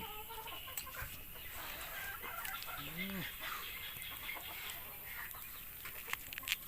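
Chickens cluck softly in a rural farm setting, a few short calls and one rising squawk heard fairly faint against a quiet outdoor background, with faint voices nearby.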